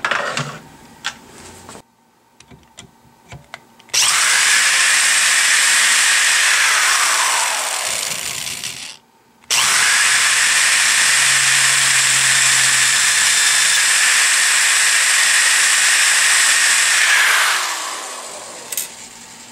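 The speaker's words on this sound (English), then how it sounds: "we're going to be drilling them out a little bit more with a 13/64 drill bit" Two long bursts of a power drill whining steadily at high speed, drilling out holes with a 13/64 bit during a Saiga 12 shotgun conversion, separated by a brief pause, with a little clatter before the first run.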